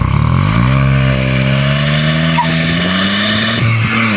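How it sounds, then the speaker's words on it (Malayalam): A Tata Altroz Racer accelerates hard, its exhaust note rising in pitch as the revs climb, loud and close, with a brief dip near the end before pulling again. "നമ്മൾ കാല് കൊടുക്കുമ്പോൾ അതിൻ്റെ എക്സോസ്റ്റ് നോട്ട് കേൾക്കണ്ടേ."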